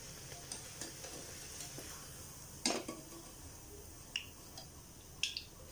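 Naan puri dough, made without yeast, frying in a pan with a faint, steady sizzle, broken by a few sharp clicks and clatters of utensils against the pan.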